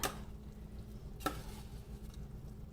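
Cooked rice being stirred and loosened in a pan over low gas, with two sharp scraping clicks of the spoon and a soft, steady sizzle in between, no voices.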